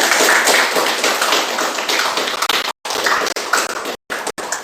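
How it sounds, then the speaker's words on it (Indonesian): An audience claps after group presentations in a classroom setting, dense steady applause with a few abrupt gaps near the end. "Itu kita berikan aplaus kepada"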